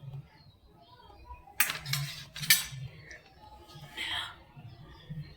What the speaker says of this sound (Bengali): এইভাবে থালায় সাজিয়ে রাখবো